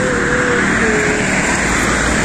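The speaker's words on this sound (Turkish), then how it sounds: "biraz araba trafiği var ve gürültülü bir yol" Cars pass along a noisy road through a forest, a loud, continuous roar of traffic with steady engine and tyre noise filling the whole stretch.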